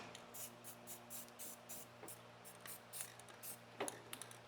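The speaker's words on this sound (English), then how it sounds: "let's give her a spritz here" Aerosol spray can spritzing paint onto a truck firewall, a series of short hissing bursts, some longer, in an uneven rhythm, fairly close with a faint hum underneath.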